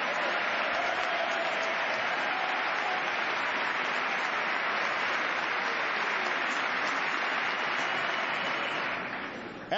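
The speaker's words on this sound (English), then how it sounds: "I thought I'd get some applause on that one." Members of Congress applaud in the chamber during the 2010 State of the Union, a sustained, dense wash of many hands clapping at an even level before tapering off near the end.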